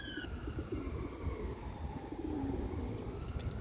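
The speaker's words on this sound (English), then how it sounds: "Can you hear that sound? Not the siren, but the sound of happy pigeons." Many pigeons cooing while feeding on scattered grain outdoors, low soft repeated coos layered over one another, with a faint siren tone fading out in the background near the start.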